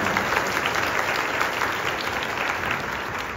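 Large crowd applauding steadily at a high school welcome ceremony for new students, where first-years and seniors greet each other. The clapping is dense and sustained for the whole stretch, with no talk over it.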